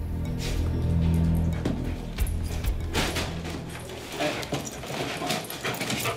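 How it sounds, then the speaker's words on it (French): Police drug-detection dog searching a bedroom, giving a few soft whimpers and sniffing sounds close by, with scattered handling noise and no talk. "C'est le chien qui va repérer où se trouve la drogue."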